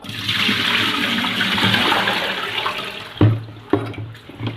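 Water splashes and pours steadily while molokhia leaves are rinsed in a kitchen, a running, gushing wash that eases off into a few sharp splashes and thuds near the end.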